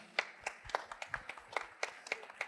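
Audience clapping for a São Paulo city hall team, a small group giving scattered, fairly quiet handclaps in a loose, uneven rhythm, with no talking over it.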